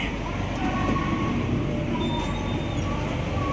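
A Kaligung train runs with a steady low rumble and rattle, with faint high squeals from the wheels.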